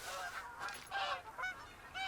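A flock of snow geese honks repeatedly in theHunter: Call of the Wild at Askiy Ridge, overlapping calls fairly faint and distant, with no talking.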